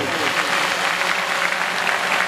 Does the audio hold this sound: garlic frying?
no